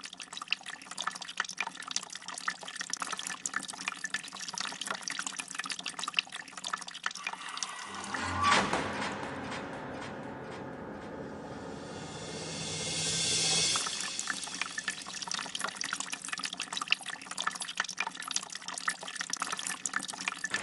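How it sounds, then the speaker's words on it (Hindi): A household tap runs steadily for about twenty seconds, with a splashing hiss that shifts briefly midway as the flow changes before settling back to a constant stream, no voices heard. "अरे ये पानी!"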